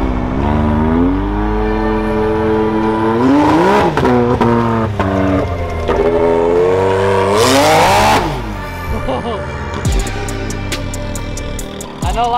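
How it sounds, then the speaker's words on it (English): A custom truck engine revs loudly and continuously with rising and falling pitch and a whirring turbo-like whine, close by, with no talk over it. "Thing sounds like it has a turbo."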